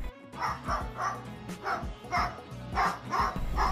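A cockatoo imitates a dog's bark right in front of a dog, giving a steady series of about eight short, mid-loud woofing calls at roughly half-second intervals.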